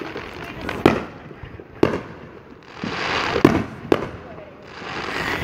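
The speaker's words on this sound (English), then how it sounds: "that's our neighbors right there doing fireworks" Fireworks bang in sharp, scattered pops at a middle distance, separated by crackling and hissing bursts, with a voice now and then.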